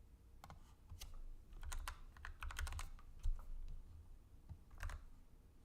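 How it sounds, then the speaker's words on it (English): Fingers type a login code on a computer keyboard, a quick irregular patter of close, crisp key clicks in short bursts separated by pauses. "I gotta type in a login code"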